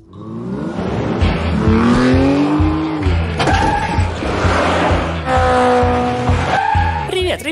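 An animated cartoon car from Poppy Playtime revs and drives with a loud engine roar and skidding squeals, heard up close under excited cartoon voices talking.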